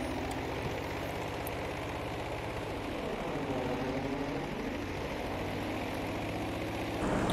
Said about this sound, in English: Oh, that's our plane.